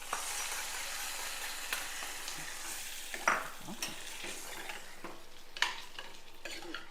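Whole spices tempering in hot oil for Tamil kathirikai (eggplant) kulambu give a steady close sizzle with stirring scrapes and a few sharp crackles and pops.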